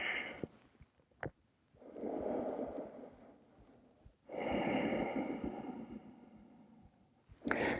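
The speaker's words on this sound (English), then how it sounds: "take a deep breath, exhale" Deep breaths and long exhales during a vinyasa power yoga class, two drawn-out airy breaths close to the mic, each swelling and fading over a couple of seconds, with softer snuffles between them.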